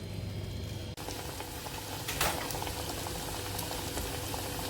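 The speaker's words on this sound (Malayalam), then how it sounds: "ഇങ്ങനെ നമ്മൾ എടുത്ത് വെച്ചിരിക്കുന്ന എല്ലാ എഗ് റോളും ഇങ്ങനെ പൊരിച്ചെടുക്കാം" Potato egg rolls fry in hot oil with a dense, steady bubbling sizzle, close and continuous, with a brief clatter near the start.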